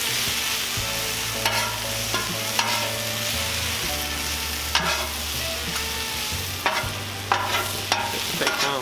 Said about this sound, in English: We're gonna get some pork on here.